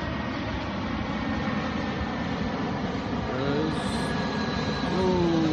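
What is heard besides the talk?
airplane flying over near the airport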